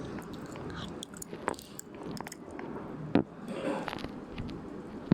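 Video game eating sound effects: crunchy bites and wet chewing in short bursts, close and moderately loud, with a louder crunch near the middle and no talking.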